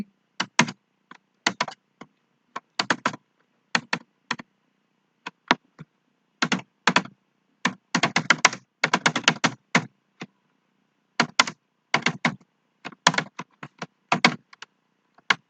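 Rapid bursts of keystrokes on a computer keyboard while entering C++ code, clustered into quick runs with short pauses between, close and clear with no talking.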